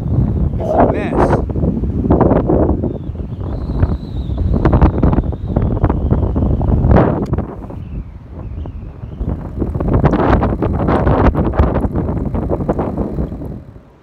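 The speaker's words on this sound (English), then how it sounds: "Battling this wind out here, it's a mess." Strong wind gusting outdoors at night on a crabbing trip, loud buffeting roar on the microphone that surges and eases throughout, with no voices.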